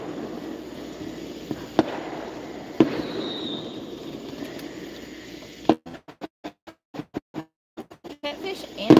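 Fireworks pop and crackle outdoors at night beside a creek during catfish fishing, a few single bangs early then a rapid run of sharp bursts toward the end, moderately loud with people talking in the background.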